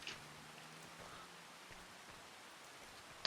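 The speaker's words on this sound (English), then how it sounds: "unfortunately can't harvest right now. It's raining." Soft, steady patter of rain in Farming Simulator 25 on an 80's-era farm, a faint continuous wash of drops with no voices.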